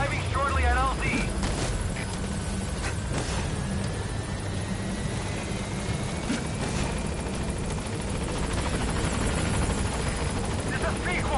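The helicopter Pequod settles over a landing zone in Metal Gear Solid V, its loud rotor chop and turbine roar filling the scene steadily while a voice talks over it.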